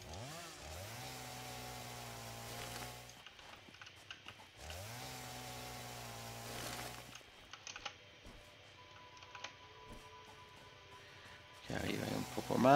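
Chainsaw in the video game Satisfactory cutting through wood, two sustained droning revs of about three seconds each, followed by quieter scattered clicks and a louder burst near the end.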